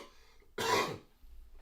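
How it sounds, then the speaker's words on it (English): A single short, rough throat-clear or cough up close, with quiet room tone before and after. "Hopefully I can get through this all without coughing too much."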